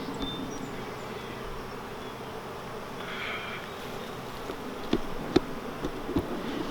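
Calm honeybees at an open hive during an April inspection on a cold day, a soft steady hum with occasional nearer buzzing passes and light handling knocks.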